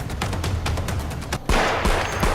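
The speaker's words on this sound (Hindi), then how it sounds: "पटाखे छूटने लगे।" Firecrackers bursting at a street celebration near a market in Chirawa, Jhunjhunu, Rajasthan: a rapid string of sharp cracks and pops, loud and dense, with a burst of heavier crackling about halfway through.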